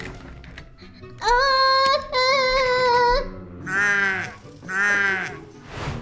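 A goat bleats four times in close succession, each cry loud, quavering and drawn out, with short gaps between them.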